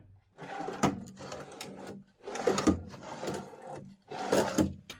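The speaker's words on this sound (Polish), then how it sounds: "Tutaj są jeszcze trzy szufladki na 12 cm głębokie." Three deep 12 cm wooden drawers in a workshop table built for a ZX7045 milling machine are pulled open and pushed closed in turn, each giving a rolling slide and a firm thud.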